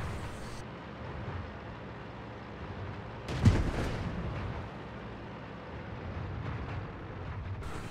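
Tank gun firing in World of Tanks on the Malinovka map, a single loud booming shot midway that stands out sharply above steady engine rumble, then decays over the following seconds.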